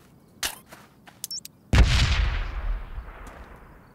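Bomb exploding in a video game: a few soft clicks come first, then a loud, close boom that rolls out into a long, fading rumble.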